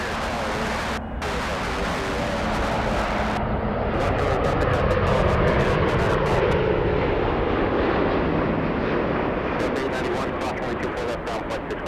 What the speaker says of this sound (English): let's head over to the United landing right now